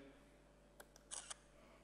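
A Windows 8 app takes a photo and plays a short synthetic camera shutter sound, a faint click followed by a quick double snap, thin and quiet over steady background hum.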